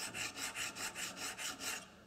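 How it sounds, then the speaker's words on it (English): A wooden jack plane is rubbed back and forth on an abrasive surface, producing about eight quick, even rasping strokes in a steady rhythm, close and quiet, with no talking. "So I just take another couple of quick rubs on here,"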